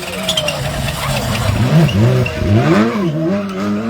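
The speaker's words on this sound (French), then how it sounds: "Écoutez ça, les autobloquants, comment ils fonctionnent" A 310-horsepower Skoda Fabia rally car on a rally special stage near Dieppe, Normandy, revs and shifts with its limited-slip differentials at work, producing loud, warbling engine swells up close.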